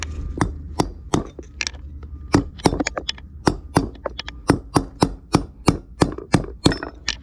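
Repeated heavy hammer blows drive out a worn, pitted trailer wheel bearing, sharp metallic strikes landing about every half second, close and loud, with no talk.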